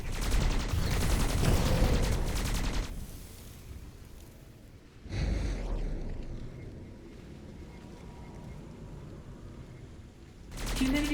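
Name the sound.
gunfire shooting creatures in video game Skyforge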